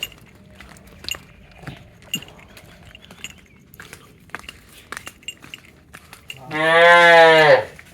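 After scattered light clinks and taps, a bull lets out one long, loud, deep moo that lasts over a second near the end.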